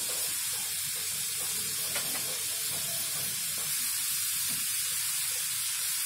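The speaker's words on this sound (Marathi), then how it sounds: "आता पाण्याला चांगली उकळी आली आहे." Water at a rolling boil in a pot, with a little oil added, makes a steady, even hiss and bubbling with faint clinks underneath, with no break throughout.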